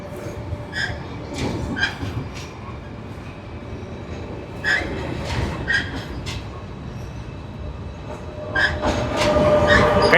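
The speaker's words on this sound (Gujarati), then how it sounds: "ટ્રેનનો વ્યૂ જોવો અહીંથી" A train crosses a bridge in Germany, rumbling and clattering nearby with repeated metallic clicks and squeals that build toward the end, while people talk faintly in the background.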